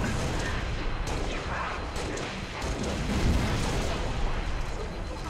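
Grenade blast in Halo Reach on PC, a loud sustained roar of explosion and gunfire filling the whole stretch, with a brief voice faintly underneath.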